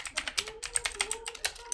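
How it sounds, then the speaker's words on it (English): Rapid, uneven keystrokes on a cheap membrane keyboard bundled with a budget PC, soft clacks tapping out quickly and close up with no talking. "So that's a membrane keyboard"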